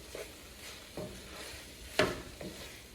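Kimchi fried rice stirred in a pan with soft scraping strokes and a faint sizzle underneath, punctuated by one sharper clack of the utensil against the pan, close and moderately quiet.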